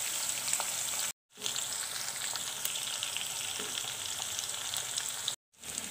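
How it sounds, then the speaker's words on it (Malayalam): Quail fries in oil over a medium flame, giving a constant close crackling sizzle that cuts out briefly twice before resuming. "ഇനി ഇത് നന്നായി മീഡിയം ഫ്ലെയിമിലിരുന്ന് ഒന്ന് ഫ്രൈ ആയി വരട്ടെ."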